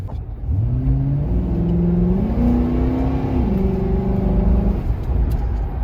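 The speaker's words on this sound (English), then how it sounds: "So the planetary gear set in the 475 and 470, the AOD, because they're all the same transmission, has that very distinct first gear whine." A 2006 Ford Crown Victoria P71 Street Appearance Package with the AOD automatic transmission accelerates in first gear, a rising gear whine climbing in steps over steady engine drone, close and loud throughout.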